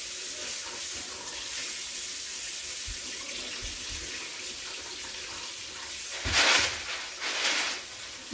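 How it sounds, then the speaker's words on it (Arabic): Warm tap water runs steadily over snails being rinsed in a kitchen sink, a continuous hiss with a louder splashing burst near the end, a few low knocks underneath. "غادي نشللو الماء دافي"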